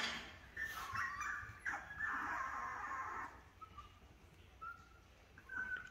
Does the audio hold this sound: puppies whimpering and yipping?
yes